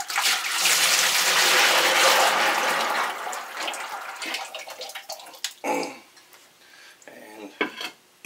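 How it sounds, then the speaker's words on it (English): Dissolved sugar water for elderberry wine pours into a bucket, a loud steady splashing rush for about three seconds that tapers into softer trickles, drips and light clatter of the container. "pour it in our bucket."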